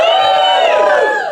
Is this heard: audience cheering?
yes